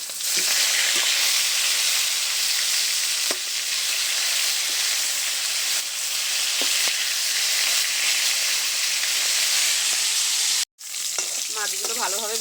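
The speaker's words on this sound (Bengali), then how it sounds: "মাছগুলো উল্টে নিচ্ছি" Pomfret fish frying in oil, a loud dense sizzle that holds steady and close over many seconds, with occasional clinks and a brief break near the end.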